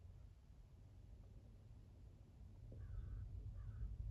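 Faint caws from crows in a parking lot, a few short calls well in the distance over a low steady outdoor rumble.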